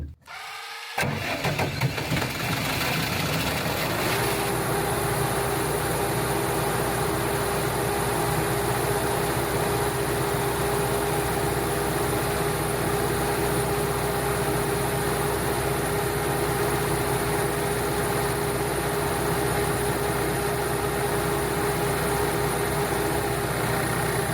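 An engine cranks and catches after parts were swapped to test whether a cylinder fires, then settles into a loud, steady running drone that continues close and uninterrupted with no talking.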